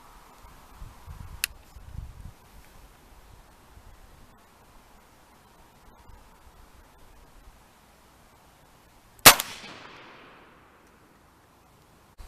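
A single sharp shot from a CVA .32 blackpowder squirrel rifle cracks out loud partway through, with a short decaying tail after long quiet outdoor ambience and a faint earlier click.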